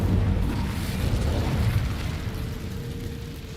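The Incendio fire spell cast in Hogwarts Legacy produces a heavy, rumbling whoosh of flame, loud and close, that roars steadily and then slowly eases off over a few seconds with no voices.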